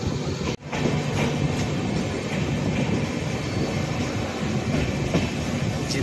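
A Konkan Railway passenger train runs along the tracks between Ratnagiri and Diva, giving a steady rumbling roar with rhythmic wheel clicks and a brief dip near the start, heard from inside the moving carriage.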